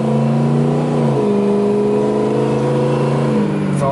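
Ford Powerstroke turbo diesel 4x4 dually crew cab pickup heard from inside while driving on the road, a loud steady engine hum with rising and falling pitch as it shifts, alone without talk.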